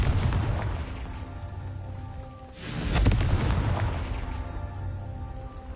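Confringo fire-blast spell exploding in the video game Hogwarts Legacy: a broad, booming burst swells near the middle, with rumbling low-end blast energy before and after it, fairly close and loud, and no talking.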